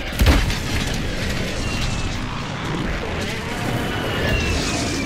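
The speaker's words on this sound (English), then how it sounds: "There's an airstrike." Airstrike explosions in Call of Duty Warzone start with a sharp loud boom, then a sustained dense roar of blasts and rumble runs steadily to the end, with faint voices underneath.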